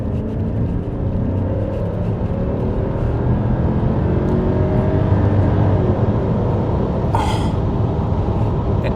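Mercedes-Benz W124 E500 V8 engine pulling under acceleration, a steady loud rumbling drone that holds throughout, with a brief higher whoosh near the end.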